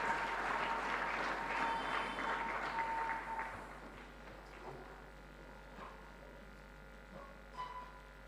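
Church congregation applauding loudly for about three seconds, then the clapping thins out into a few scattered claps and quiet room noise.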